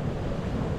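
Wind gusts buffet the microphone at an English seashore, a loud low rumbling roar blended with surf, close and continuous for a brief moment without speech.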